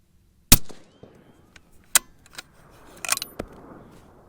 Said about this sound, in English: Let's see if we can shoot a good group yet again.